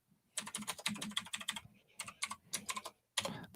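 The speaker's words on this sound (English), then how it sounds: "with my extremely loud keyboard that everybody just loves" Loud, clacky keyboard typing in rapid bursts with short pauses between, close up and dominant, no talking.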